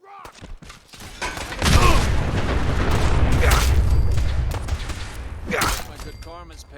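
Grenade going off in a video game: a sudden loud blast followed by a long, roaring rumble that slowly fades, with shouted voices before and after.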